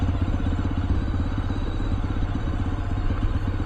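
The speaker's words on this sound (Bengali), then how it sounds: "পুরো ইঞ্জিন ব্রেকে গাড়ি নামছে ভাই" A motorcycle rolling downhill on engine braking during a ride at Gangani: a steady, close, throbbing engine drone that stays loud throughout, with no talking.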